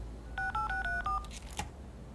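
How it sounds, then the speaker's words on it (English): Telephone dialing tones in the video game Leisure Suit Larry: Wet Dreams Dry Twice, five quick two-note beeps keyed in a steady run, followed by a short clunk, clear and close over quiet background. "So now, with that done, we can use the phone"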